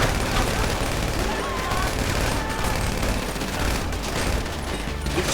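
Sustained, dense gunfire rattles continuously during a GTA Online Fleeca bank heist setup mission, loud and unbroken across the whole stretch.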